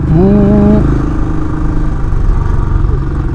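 Royal Enfield Classic 500 single-cylinder engine pulling up a mountain hill in third gear, a loud steady thumping drone close to the mic, with a brief rising tone near the start.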